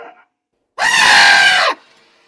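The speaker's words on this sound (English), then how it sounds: "a single scream can be heard in the distance." A single scream for an audio play, one loud sustained cry lasting under a second that cuts off sharply, framed by near silence apart from faint murmurs before and after.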